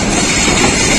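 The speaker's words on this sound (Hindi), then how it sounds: "अब रावलपिंडी पैसेंजर" Pakistan Railways Rawalpindi Passenger train pulling into Havelian, its last station, with a steady loud rumble of rolling carriages and faint rail clatter, no voices.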